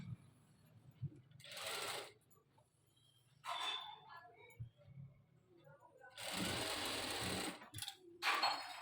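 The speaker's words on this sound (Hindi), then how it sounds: "सिलाई पर सिलाई लगा लेते हैं।" A sewing machine stitches lined trouser fabric in three bursts of rapid, buzzing mechanical whir, the last one longest, with a person speaking quietly in the pauses between runs.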